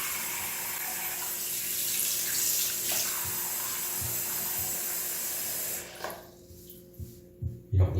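Water gushes steadily from a tap into a sink for several seconds, then shuts off, leaving a few soft clunks and knocks.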